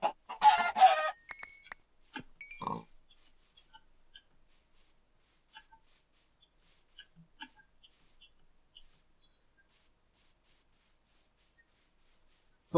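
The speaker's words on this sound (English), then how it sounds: "And more chickens. I'll kill the pigs and chickens for their meat." Chickens in the Minecraft video game, a burst of clucking at the start followed by another cluck, then scattered faint clicks and taps over a mostly quiet stretch.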